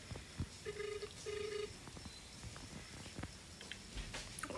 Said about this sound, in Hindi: अभी फ़ोन मिलाया मैंने ये शुभ वाले फ़ोन से